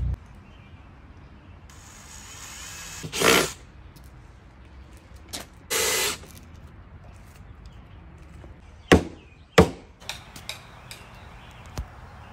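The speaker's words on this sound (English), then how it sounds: "I'm just joining blocks together and hammering them." Scattered sharp knocks of hammering wooden blocks together for a patio tabletop, a few isolated strikes with pauses between, close by in a quiet room.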